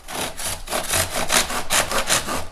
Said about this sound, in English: Now you can use a standard panel saw,